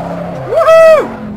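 A 1987 Pontiac Trans Am GTA driving in Assetto Corsa gives a brief engine surge, its pitch climbing to a loud held whine and then dropping back to a low hum, with no talk.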